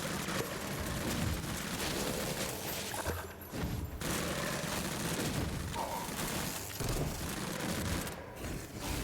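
Gunfire from the video game Ziggurat 2 rattles out in dense, rapid bursts over a loud, busy game soundscape, with only brief lulls.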